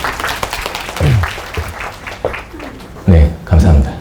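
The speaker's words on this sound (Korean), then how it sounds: "큰 박수로 모시도록 하겠습니다" An audience at an education seminar in Korea applauds to welcome a speaker. Scattered clapping is heard early on under a talking voice, and the voice then dominates.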